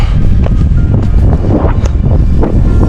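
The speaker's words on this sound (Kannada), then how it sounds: "ಇಲ್ಲಂತೂ ಚಳಿ ಗಾಳಿ ಹೊಡಿತಾ ಇರ್ತದೆ" Cold wind blows hard across an outdoor hilltop viewpoint, a loud continuous rumbling roar that buffets the microphone with gusty surges, with no voices.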